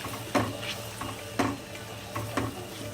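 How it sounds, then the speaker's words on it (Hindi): Lotus stem pickle with raw mango is stirred in a pot, each stroke making a short scraping clatter that repeats about once a second over a low steady background, with no voices. "और इसमें कैरी डालेंगे। कैरी डालकर मिक्स कर लेंगे।"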